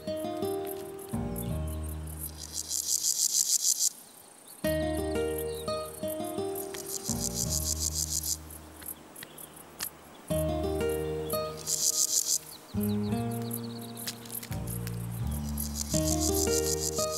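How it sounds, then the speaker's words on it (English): Male grasshoppers chirp in a dense, grassy meadow beside a mixed orchard in summer, giving repeated rasping bursts of buzzing stridulation with short pauses between them. "Male grasshoppers announce their readiness to mate."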